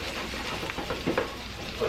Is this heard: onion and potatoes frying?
yes